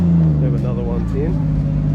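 A Toyota JZX110 passing during a night car cruise, an engine note rising and fading with a bass-heavy drone underneath, while someone talks over it.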